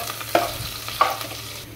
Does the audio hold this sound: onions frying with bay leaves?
yes